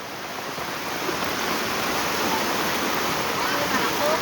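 Flash flood water rushing after heavy rain in Dusun Embuk, Desa Pesanggra, a steady loud broadband roar that swells slightly and holds without pause.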